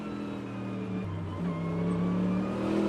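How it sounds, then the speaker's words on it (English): A V12 Aston Martin Valkyrie race car howls past at the Rolex 24 at Daytona, its steady high engine note shifting pitch as it goes by, with other race engines droning close behind and no voices. "the V12 Aston Martin Valkyrie comes screaming past all of them"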